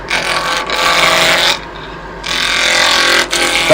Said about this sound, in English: Try to keep the lathe around 2000 RPMs.